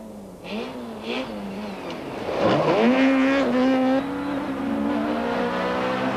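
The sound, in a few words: rally cars racing, Toyota and Volkswagen Golf on stage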